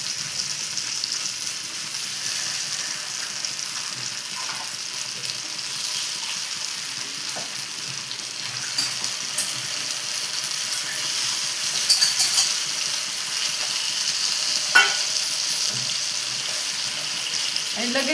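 Crabs frying in hot oil in a pan, a steady bright sizzle throughout with occasional light scrapes and clinks of turning, close by.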